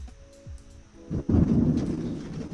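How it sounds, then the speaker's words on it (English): Thunder rolls through a rainy storm, starting as a quieter low rumble and then swelling into a loud, sustained, heavy roar from about the midpoint onward, with no talking. "Exhibit A: this man and his thunderstorm."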